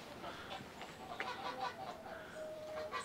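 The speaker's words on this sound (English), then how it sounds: "we have some chickens here." Chickens cluck softly in short bursts over a faint, steady background, a few birds chattering at a moderate distance in Buskett Woodlands, Malta.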